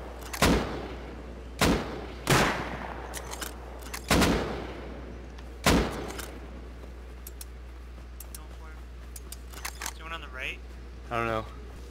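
Gunshots fired in the survival game Rust, about five sharp loud reports spaced irregularly across the stretch, with a few quieter clicks and a brief electronic warble near the end over steady low hum.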